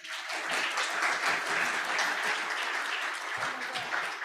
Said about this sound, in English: Give a round of applause to our MC